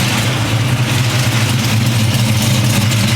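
A 1987 Landau with headers and an aftermarket exhaust system idles loudly and close, a steady, rumbling, even drone with no talking.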